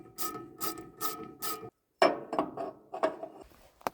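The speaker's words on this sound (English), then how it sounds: "Okay, so I got ratchet." Ratchet wrench clicking as it loosens the dull blades on a woodchipper, four bursts of rapid metallic ratcheting, then a brief pause and a second run of sharper clicks and clanks, close and alone.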